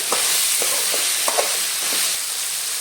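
Pumpkin sizzles steadily in a hot pan while a spoon stirs it, giving a dense, constant frying hiss punctuated by soft scraping knocks, close and fairly loud.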